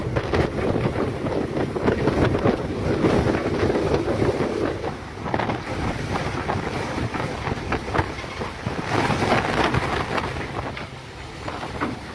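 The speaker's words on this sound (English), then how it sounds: "Strong winds of level 14" Level-14 storm winds roar and buffet the microphone in continuous gusts, loud and rough, with no voices.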